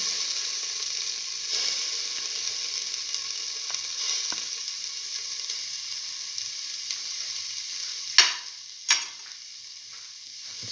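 Ginger sizzles and fries in a hot pan while being stirred, a continuous close hiss with light scraping, then two sharp metallic clinks near the end.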